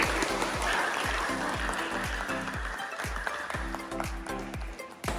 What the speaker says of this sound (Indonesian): Tepuk tangan kelompok 1.